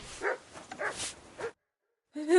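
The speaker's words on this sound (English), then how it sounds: "Good dog, Mutt." Mutt, a dog in Kingdom Come: Deliverance II, gives three or four short, close barks and whines, then falls silent before a voice begins speaking at the very end.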